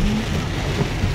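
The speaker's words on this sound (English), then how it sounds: "this is pretty rainy. It's pretty hard. It's coming down in buckets." Heavy rain pours steadily onto a car during a ride, a dense, continuous wash of drumming with no break.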